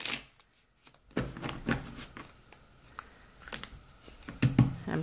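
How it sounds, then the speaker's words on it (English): Tarot deck being shuffled by hand, a run of crisp riffling and papery flicks in irregular bursts with brief pauses, close and moderately loud, no talking. "I'm kind of having a hard time shuffling for you, Aries."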